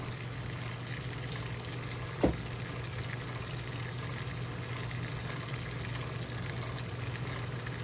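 Steak frying in butter in a cast iron skillet gives a steady, fairly quiet sizzle that goes on without a break, with one brief sharp tap partway through.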